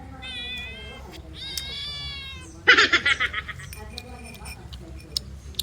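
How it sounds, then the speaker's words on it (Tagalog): A cat meows close by in several drawn-out calls, then gives a harsher, louder yowl followed by a quick run of short pulses, with faint ticking in the background. "Pusa."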